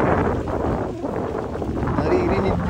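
Strong wind buffets the microphone on a beach at Boracay, a loud continuous roar of rumbling gusts that fills the whole clip with no break.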